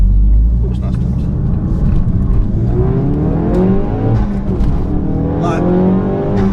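A fully forged, wide-arched 430bhp Ford Focus RS accelerates hard, its engine note rising loud and close in sweeping upward runs through successive gears, with people talking over the roar.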